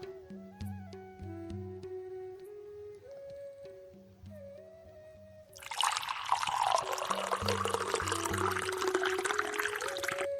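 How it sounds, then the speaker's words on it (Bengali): Tang orange syrup is poured into a glass, a steady liquid stream beginning partway through and continuing to the end, with soft background music playing beforehand and underneath. "এখন আমি এখানে পরিমাণ মতো এই সিরাপটি দিয়ে দিচ্ছি।"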